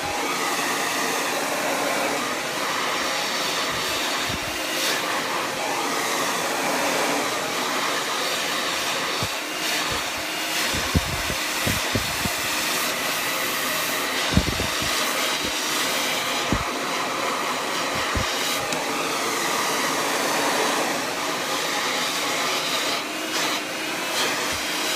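Blow dryer drying frizzy curly hair at the roots, a constant loud whooshing roar that carries on without a break, with soft bumps and knocks as the nozzle moves through the hair.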